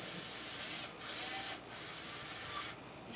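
A power driver buzzes a bolt into the plastic shock mount on an Arrma Vendetta RC car, a close, steady high whir in three short runs separated by brief gaps.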